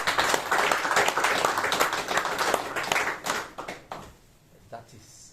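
An audience claps together at a courtesy visit to a traditional ruler, a dense burst of many hands that fades out near the end, with voices mixed into it.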